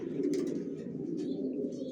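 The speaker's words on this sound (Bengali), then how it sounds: "আমার লফটে সব একই লাইনের কবুতর বালি, জনসনের লংয়ের" Racing pigeons of a single Janssen line coo steadily inside a loft, a dense, continuous low warbling chorus from several birds close by, with no talking.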